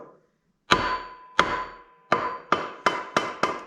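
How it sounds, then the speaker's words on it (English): A hammer taps an axle into a Ford 9-inch rear end, struck six times in sharp metallic hits that come closer together toward the end, close and clear with no talking. "a couple little tappy taps is all it took"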